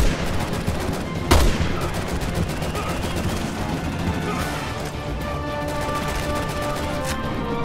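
Gunfire in Resident Evil 6 during a trainyard battle, with one loud sharp shot followed by a rapid, steady stream of lighter shots and clatter over a dense game soundscape.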